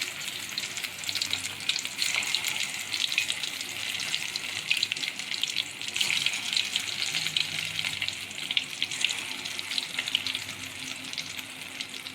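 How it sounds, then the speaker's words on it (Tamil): Mutton kola balls frying in hot oil, a steady, dense bubbling sizzle that stays even and fairly loud for the whole stretch, with no talking. "இப்போது உருண்டை எல்லாத்தையும் பொரிச்சு எடுத்தாச்சு."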